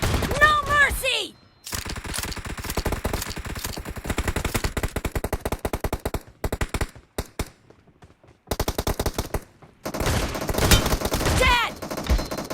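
Rapid, loud video game gunfire from a shotgun and other weapons, bursts of shots firing in quick succession with short pauses and a couple of near-silent gaps, plus brief voice-like game sounds at the start and end.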